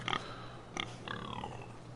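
A pig in a Game of Thrones video game oinks in a few short grunts, a brief burst at the start and two more later, fairly faint over a steady background hum.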